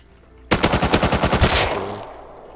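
A rapid automatic burst of gunfire in the survival game Rust, roughly a dozen sharp shots fired fast and loud for about a second, followed by a fading echo tail and no voices.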